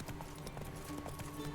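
Hooves of the horse Roach clip-clopping steadily in The Witcher 3 while wandering Novigrad and Velen, a continuous close trotting rhythm with faint background game sound.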